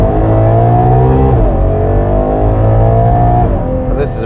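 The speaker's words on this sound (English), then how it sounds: "this is a pretty good sounding Ferrari 12 cylinder" A Ferrari 599 GTO's V12 engine pulls hard at close range, a loud, steady harmonic roar climbing in pitch, briefly dipping at a gear change and then rising again, with a voice faintly over it.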